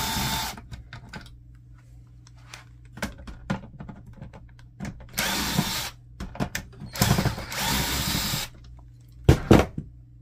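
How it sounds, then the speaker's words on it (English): A power screwdriver whirs in two bursts of about a second each while taking screws out of an Epson XP-4100 printer. Clicks and small handling knocks from the printer's plastic parts come before and between the bursts. "We're gonna remove this screw right here."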